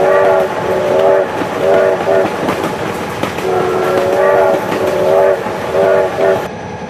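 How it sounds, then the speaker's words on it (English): A video game train horn blares in repeated stacked-tone blasts over a continuous rumbling rail noise, loud and close, with brief gaps between the blasts. "Oh my God, train!"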